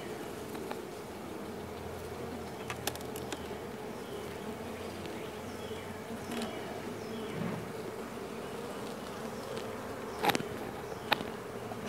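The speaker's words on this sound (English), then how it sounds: "And many bees was in the top." Honey bees buzzing during a beehive inspection, a continuous close hum of many insects with a few louder passes and soft knocks of frames being handled.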